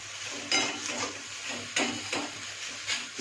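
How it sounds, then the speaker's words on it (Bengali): Radish greens frying with eggplant in a pan give a quiet continuous sizzle, broken by a few sharper scraping stirs. "মূলো শাকটা একটু বেগুন দিয়ে ভাজছি।"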